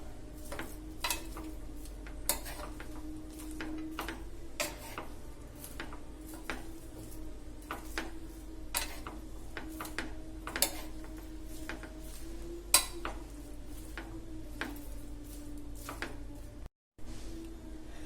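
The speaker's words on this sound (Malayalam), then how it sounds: "എന്നിട്ട് നമ്മൾ നന്നായിട്ടൊന്ന് മിക്സ് ചെയ്ത് കൊടുക്കാം." Vegetables for a dry Onam sadhya aviyal being mixed in a pot, a steady series of light spoon clicks and taps against the vessel with a faint low hum beneath, close and unhurried, without talk.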